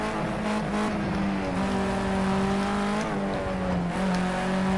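A Ginetta GT5 race car engine in Project Cars 2 whines in tonal sweeps, rising and dipping through gear changes, with faint tire noise under a continuous close engine drone.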